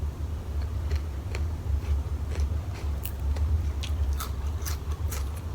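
Someone eats fresh, raw, unboiled vegetables alongside a dried fish-organ curry. Close crunchy bites and chewing snap out at an irregular pace over a low background hum.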